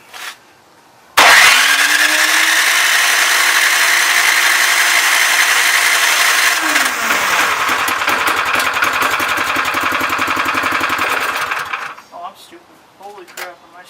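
A Toro Power Clear or Craftsman snowblower engine, previously not running, cranks and catches, then roars loudly and unevenly for several seconds before sputtering and dying out.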